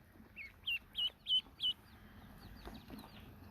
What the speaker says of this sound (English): You hear him making his little peeping sound.